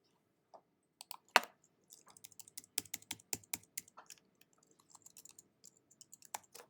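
Typing on a computer keyboard, recorded close and quiet: irregular bursts of light key clicks with short pauses between, and no voice.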